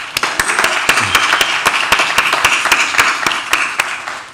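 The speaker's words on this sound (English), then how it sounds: "Let's give her a round of applause." A small audience gives a round of applause at a panel event, sparse and distinct claps with a fairly even rhythm, close and fairly loud throughout.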